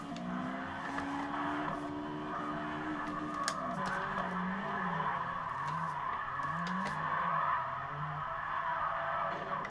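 Engine of a drifting car in the CarX Drift Racing video game drones steadily while spinning in a donut, with wavering tire-squeal tones rising and falling throughout, loud and continuous with no talk.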